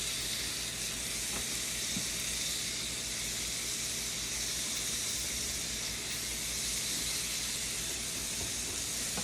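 Raw shrimp frying in a pot for shrimp scampi pasta give a steady, loud, broadband sizzle that holds evenly throughout, with faint crackles and occasional pops and no talking.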